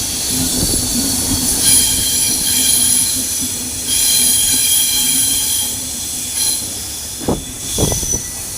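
A passenger train approaching Howrah station, heard from on board: loud continuous rumble and hiss of rolling wagons with ringing wheel squeal, and a few sharper clacks and screeches near the end.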